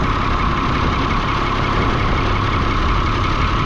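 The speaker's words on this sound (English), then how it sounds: "Best cold starting diesels on the face of the planet." A diesel tractor engine idles steadily after a cold start, a constant close rumble with a faint knocking texture running unchanged throughout and no voices.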